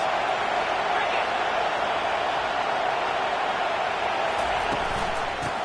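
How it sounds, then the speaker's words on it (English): A roaring stadium crowd at an Oklahoma vs Ohio State college football game gives off a dense, steady wall of noise, and a commentator talks over it. "This crowd trying to make life miserable for this offense."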